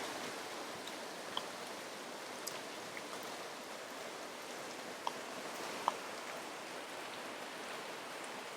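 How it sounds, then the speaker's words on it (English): Steady rain falling outdoors, a continuous soft wash of noise with occasional louder drops and ticks, heard alone without talk. "It's raining today."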